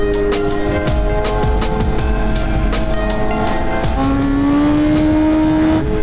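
A BMW M1000RR superbike engine revs loudly and steadily at a local bike night, with rising harmonic engine tones and a higher pitched rev climbing near the end, close to the listener.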